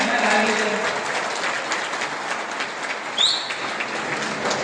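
An audience claps at a civilian gun training camp run by the Kolar district police: dense, sustained applause of many hands, fairly loud and even throughout.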